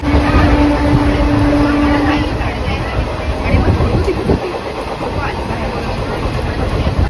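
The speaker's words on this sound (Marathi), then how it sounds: "आणि ट्रेन आहे ट्रेन." A passenger train rumbles with a constant engine drone and rattling carriages, loud and close, while people talk faintly inside.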